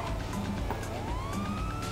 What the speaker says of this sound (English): just turn your sirens on and move.